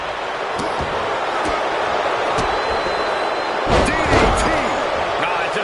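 Rapid right-hand punches landing in the WWE 2K25 wrestling video game: a few scattered thuds early, then a quick flurry of impacts near the end, over a constant crowd roar with voices in the background.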